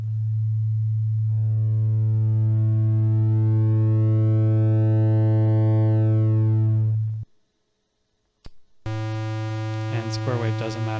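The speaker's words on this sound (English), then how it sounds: "There's a sine wave." Synthesizer sine wave tone, loud and steady, with upper harmonics sweeping up and falling away before a sudden cut to silence, then a brief click and the tone returning with wavering overtones.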